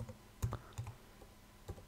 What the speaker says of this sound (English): Probably a little easier to start out typing in rotary switch